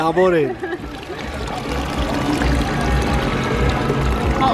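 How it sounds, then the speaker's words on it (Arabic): Water flows and pours steadily in Quebec City, a constant close rushing wash that follows a brief voice at the start and fills the rest. "صوت المي مع منظرها عن جد بياخذ العقل"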